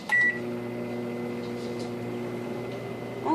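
A microwave oven runs with a pizza slice inside, giving a steady low mechanical hum with a brief higher tone near the start, close and continuous with no speech.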